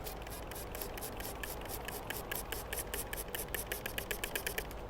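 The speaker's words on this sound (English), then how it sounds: "I'm just going to spray this brick." A spray bottle pumped in quick repeated bursts, hissing water mist onto a brick in a rapid regular rhythm close up.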